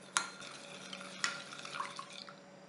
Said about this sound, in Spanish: Esto vamos a remover